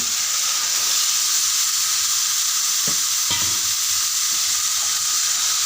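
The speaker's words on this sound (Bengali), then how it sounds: "ঘুগনিগুলো ঢেলে দেওয়ার পর ভালোভাবে ঘুগনিগুলো কষাই নিব।" Chana ghugni fries in spiced masala with a steady, bright hissing sizzle, broken by a couple of soft clunks from stirring about halfway through.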